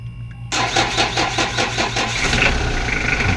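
A motor vehicle engine cranks and catches after a quiet moment, then settles into a steady, fairly loud idle close by, with no talk over it.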